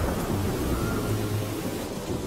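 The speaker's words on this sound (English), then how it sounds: "Are you going to eat your food in the rain?" Steady rain pours down in an animated cartoon scene, a dense, even hiss with a low rumble that stays constant and fairly loud for the whole short stretch, with no voices.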